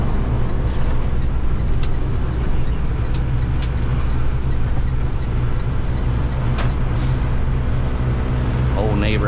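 A 2014 Freightliner M2 106 box truck runs with a steady, close, low engine rumble that holds throughout, and a faint voice is briefly heard near the end.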